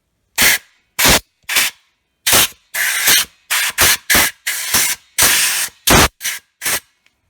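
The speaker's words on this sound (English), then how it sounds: "I'm just gonna blow it out with a little compressed air" Short bursts of compressed air hissing loudly up close as a steering wheel position sensor on a 2004 Cadillac SRX is blown clean, about a dozen sharp blasts of varying length separated by brief silences.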